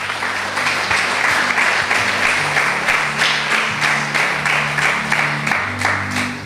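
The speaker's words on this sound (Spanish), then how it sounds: "Denle un aplauso a Jesús bien fuerte." A church congregation gives Jesus loud, sustained applause during a service, dense clapping throughout while organ or keyboard tones hum faintly beneath it.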